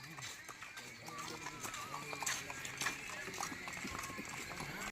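Horse hooves clip-clop along on a pilgrimage walk from Basavana Bagewadi toward Srisailam through a farmer's field, a quick steady rhythm of hoofbeats nearby while people talk over them.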